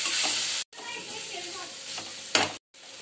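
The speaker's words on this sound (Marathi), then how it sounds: "हिरवं वाटण आणि आता टमाटर हे पण परतून घेऊया" Green masala paste and tomato fry with turmeric and red chili for a cabbage bhaji, a close, crackling sizzle with stirring scrapes, cut by two brief silences.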